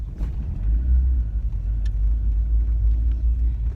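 A Fiat Tipo 1.6 SLX ie pulls away slowly on the road, heard from inside as a low, steady engine rumble with light road noise and no talking.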